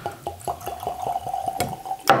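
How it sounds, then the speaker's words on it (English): Weller 12 Year bourbon poured from a screw-cap bottle into a glass, a close glugging pour with rhythmic gurgles that speed up, ending in a bright clink of glass. "Oh, love the sound of pouring a Weller 12."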